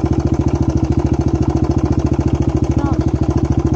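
A motorcycle engine runs while being ridden, giving a loud, close, rapid and even throbbing pulse that holds steady throughout with no talk over it.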